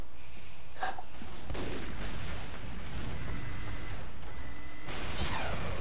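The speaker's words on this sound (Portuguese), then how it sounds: "Me deram um tiro e fiquei com 6 de vida" Gunfire in Team Fortress 2: several loud, close shots and blasts break through a dense, noisy game soundscape, with irregular bursts spread across a few seconds.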